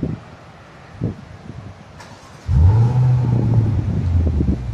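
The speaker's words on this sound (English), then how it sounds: "why don't we go ahead and start it up and cool. Listen to the exhaust." A 2019 Maserati Levante GTS twin-turbo V8 starts up after a few quiet seconds, catching abruptly and settling into a loud, deep, steady exhaust rumble at idle.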